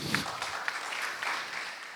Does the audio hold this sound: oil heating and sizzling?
no